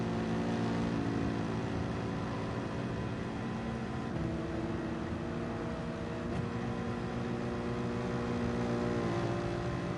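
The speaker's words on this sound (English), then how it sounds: "hear the noisy V8 bi-turbo engine behind me." In Gran Turismo 7, a noisy V8 bi-turbo race car engine drones steadily at high revs during an endurance race at the Nurburgring, with shifting pitch and a faint, distant quality.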